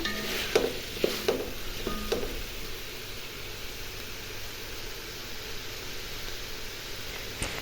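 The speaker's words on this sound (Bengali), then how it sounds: "এখন আলু দিয়ে মাংসটা ভালো করে কষে নিতেছি" Chicken and potatoes fry together in a pan for Bengali-style chicken biryani, a soft steady sizzle with a few sharp stirring clatters near the start, fading into a quiet hiss.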